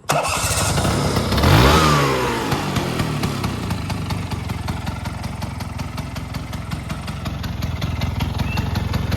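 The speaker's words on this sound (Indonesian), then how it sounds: "Ini dia pesona dari Vespa Excel 1994, starter tinggal pencet." A 1994 Vespa Excel scooter cranks on its electric starter and fires up, then settles into a loud, steady, close idle.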